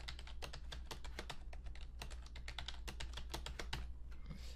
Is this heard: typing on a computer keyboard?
yes